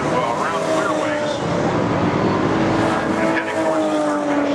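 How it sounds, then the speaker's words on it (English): V8 race cars roar past at Brands Hatch circuit, a loud continuous engine drone with shifting pitch as cars pass, mixed with a commentator talking over the racing. "We're going to see if that second place car can make it into the lead by Dowling"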